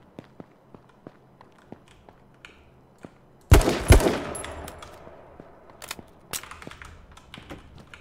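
Shotgun fire in the video game H1Z1: one loud, close blast booms out over quiet footsteps, then trails off, and a sharper second crack follows a few seconds later.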